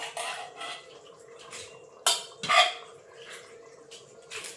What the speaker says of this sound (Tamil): அந்த குடல் எடுத்து அப்படியே உள்ளே போட்டுருவோம்.